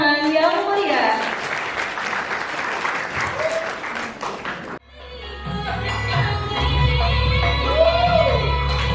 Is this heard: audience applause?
yes